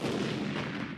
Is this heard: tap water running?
no